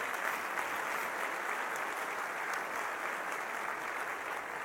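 Sustained applause comes from an audience at a political speech, a steady, fairly distant wash of clapping with no break and no voices over it.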